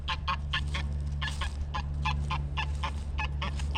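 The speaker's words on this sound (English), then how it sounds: "Hey, goose." A goose honks repeatedly, loud and close, in a steady series of calls over a low outdoor rumble beside a pond while someone is fishing.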